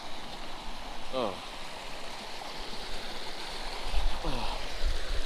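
Water rushes down a natural rock water slide on a hike, a steady close hiss and splash running throughout, with two brief voiced exclamations over it.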